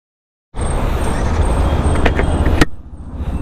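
A Yamaha FZ-X motorcycle engine bursts in after a short silence and holds a loud, close, steady drone as the bike sets off, then eases and shifts tone near the end.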